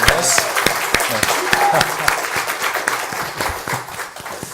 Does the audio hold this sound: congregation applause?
yes